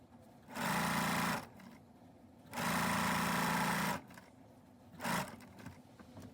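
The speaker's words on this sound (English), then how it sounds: "I'm sewing with a seam allowance that's just a little bit larger than 1/4 inch" Sewing machine stitching binding onto a quilt with a seam allowance slightly wider than a quarter inch, heard in three runs: two longer whirring bursts of steady stitching, then a brief short one, close and clear.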